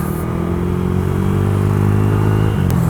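A Honda Click 165 scooter being ridden, with a loud, continuous engine hum and road noise at steady speed and a brief clatter near the end, and no talk.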